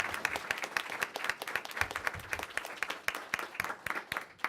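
A forum audience of environmental policy attendees claps steadily, a dense round of applause from a modest indoor crowd that fades slightly toward the end.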